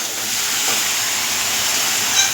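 Ridge gourd frying in a pan gives a steady, close hiss and sizzle that holds evenly throughout, with no talking.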